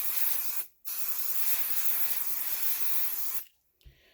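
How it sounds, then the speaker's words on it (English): Two long hissing bursts from an aerosol can of basting adhesive sprayed onto a quilt, close by, with a brief pause between them and a faint soft thud at the end. "So I just do a quick spray."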